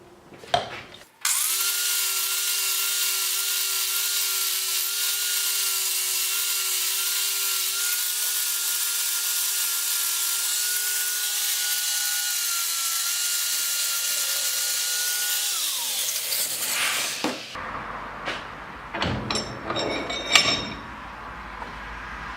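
A power tool with a fine abrasive disc cleans a steel jaw from a Littlestown #400 vise, a loud steady high whine holding for about fifteen seconds before spinning down, followed by clattering handling and scraping noises.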